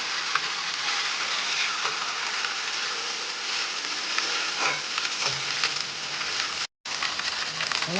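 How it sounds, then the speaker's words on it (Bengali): Ginger-garlic paste frying in a pan while making ghugni, a continuous, fairly loud crackling sizzle with small pops and an occasional stir, broken by one brief gap near the end. "আদা রসুনের পেস্ট একটু ভাজবো রসুন আর আদাটা একটু ভাজবো"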